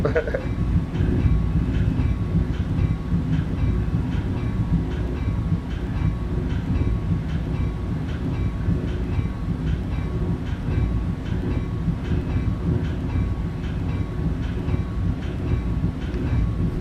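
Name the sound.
North Jersey Coast Line multilevel train running, Train Simulator 2019 video game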